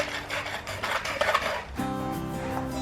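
A metal file rasps steadily back and forth across a chainsaw chain in quick, rhythmic strokes, close up and loud, with no talking.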